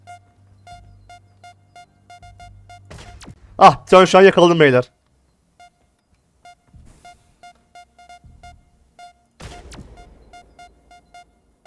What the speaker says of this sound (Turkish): Bir de bu alarm çalıyor demek ki.